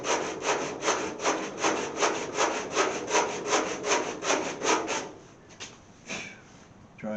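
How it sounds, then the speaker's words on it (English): Steady back-and-forth rasping strokes of a sanding board along the door body line of a 1929 Chrysler, about fifteen rapid rhythmic passes, then a pause and a few scattered scrapes. "I'm going to try to do it here with a sanding board"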